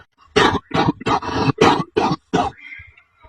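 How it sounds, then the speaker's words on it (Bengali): A father's harsh, worsening cough in a series of about seven loud, close bursts, evenly spaced over roughly two and a half seconds, then a faint trailing wheeze. "বাবা যা কাশিটা দিন দিন বাড়ছে"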